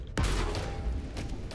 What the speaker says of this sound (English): That was a lot more of an explosion than I was expecting.